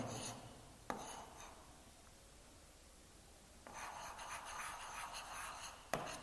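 Chalk or pen scratching out the number 5 crore during a Class 5 maths lesson on numbers, in two bursts of steady scraping separated by a quiet pause, each ending in a sharp tap.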